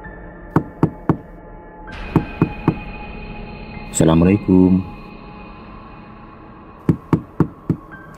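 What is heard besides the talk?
knocking on a door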